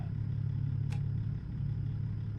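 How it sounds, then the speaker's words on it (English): A truck engine in American Truck Simulator hums at low, steady idle, faint and continuous, with one brief click partway through. "you can hear I'm using a different engine"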